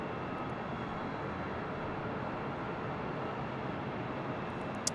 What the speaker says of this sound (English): That was JetBlue Airways Flight 1279 coming in from Las Vegas on that A320.